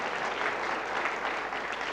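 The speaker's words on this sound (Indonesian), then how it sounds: "ya boleh beri tepuk tangan, haleluya" Steady applause from a church congregation fills the space, a dense even wash of many hands clapping together at moderate loudness, with no voices standing out.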